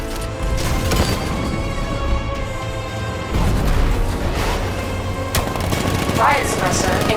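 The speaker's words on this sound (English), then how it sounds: "60mm cannon operational" A 60mm cannon firing in a Batman video game, heavy repeated blasts and clattering impacts spread through the clip, loud and close amid game music and effects.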